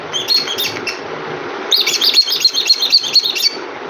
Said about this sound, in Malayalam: ചെവിയിൽ കിളിയാണോ എന്ന് മോള് ചോദിക്കുന്നു